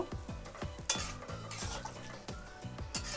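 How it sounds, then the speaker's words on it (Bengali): Mushroom, paneer and soybean masala with potato and added water is stirred in a pan, with rhythmic scraping strokes about every half second and a faint sizzle underneath, close up and alone. "জল দিয়ে দিলাম। এবার ভালো করে নাড়িয়ে নেব।"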